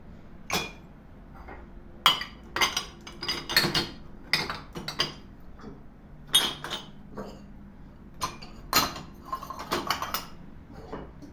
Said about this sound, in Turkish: Bulaşıkları şimdi makineye dizeceğim.